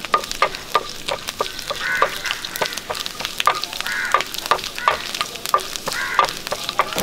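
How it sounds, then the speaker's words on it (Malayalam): Chopped coconut fries in hot coconut oil in a pan for Kerala-style bonda, giving a steady sizzle broken by regular sharp clicks and pops of stirring. Near and moderately loud, with no voices. "നമുക്ക് ബോണ്ടായിക്ക് വേണ്ടി ഒരു ശകലം കപ്പലണ്ടി തേങ്ങായും ഒന്ന് വറുത്തെടുക്കാം."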